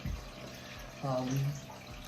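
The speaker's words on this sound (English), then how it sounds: "the little water maker right here in the background, that's my aquarium" A home aquarium's water filter runs in the background, giving a continuous soft trickle and splash of water, with a brief murmur of a voice in the middle.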